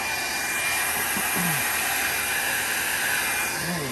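A heat tool blows on high heat to dry alcohol ink on synthetic paper, a loud, steady, unbroken hiss held close throughout.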